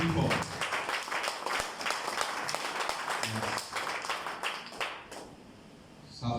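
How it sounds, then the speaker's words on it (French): Congregation at a Sunday church service applauding loudly, dense clapping mixed with voices that fades toward the end before a final burst. "Applaudissez fort."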